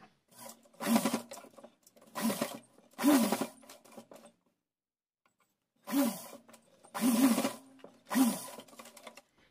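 A sewing machine stitching cotton fabric for a small deity dress, running in six short bursts of fast needle chatter separated by brief pauses, with a longer silent gap in the middle.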